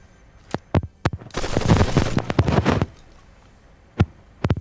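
Rapid bursts of gunfire from a Fortnite match, a few sharp isolated shots followed by a dense, sustained volley lasting over a second, then scattered single shots, loud and close with no talk.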